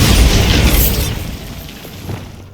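A Bombarda blasting spell detonates in Hogwarts Legacy with one loud, close boom that rolls into a rumbling tail and fades over about two seconds.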